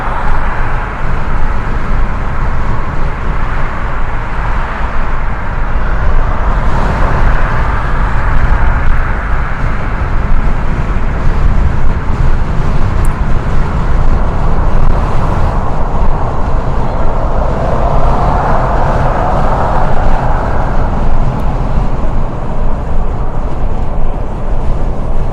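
A car drives along roads through Walt Disney World property in Orlando, Florida, giving a steady, loud interior road and engine rumble that holds constant throughout with no one speaking.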